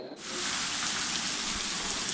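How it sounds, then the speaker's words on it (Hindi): A waterfall at a remote cave site in Mewar roars in a steady, dense rush of falling water, loud and close, with no other sounds. "झरने की आवाज़ आपको स्पष्ट सुनाई दे रही है"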